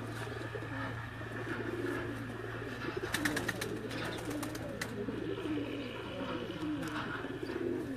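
Pigeons cooing from a rooftop loft in Sialkot, a steady soft chorus of repeated coos over a constant low hum, with a few faint chirps mixed in.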